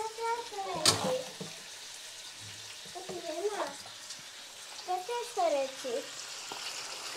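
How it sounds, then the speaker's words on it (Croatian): Pork trotters and skin stew in a pan for Szekely goulash, with a soft continuous sizzle, a sharp splash of poured water early on, and someone talking intermittently over it. "Nalijete vode. I ostavite da se dinstaju."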